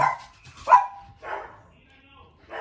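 A dog barks a few times in short, sharp bursts, fairly close, with a voice speaking in between.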